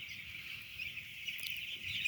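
A dense flock of 8-day-old broiler chicks in a poultry house in Medan during the rainy season, a continuous high chorus of peeping at moderate distance, with no talk.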